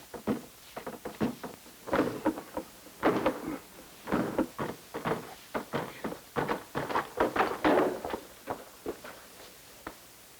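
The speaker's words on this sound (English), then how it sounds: "Force the door." Repeated heavy thuds and rattling bangs against a door, irregular and forceful, close by, continuing for several seconds.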